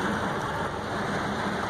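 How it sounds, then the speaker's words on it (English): Rain falls steadily on a rainy day out snook fishing, a dense, even hiss that stays loud throughout the short stretch with no voices. "It's raining again."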